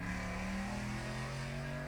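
Street traffic with cars revving, a close, continuous engine drone with strong low tones that holds steady and loud through the short stretch, with no voices.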